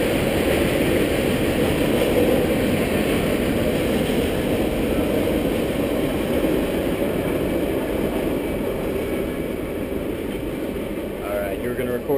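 A train rumbles past in a steady, loud, continuous roar that fades slightly toward the end, heard near a zipline course with people talking over it.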